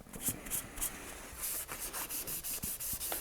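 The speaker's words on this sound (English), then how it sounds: "I am just going to wipe all this down," Cloth wiping excess oil off the metal parts of a lever-action rifle, soft quick rhythmic rubbing strokes, close and quiet, repeating steadily.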